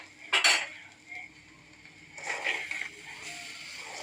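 A metal utensil stirs food in a frying pan, giving clinking scrapes in short bursts with quieter stretches between. No clear sizzle stands out, and no one speaks.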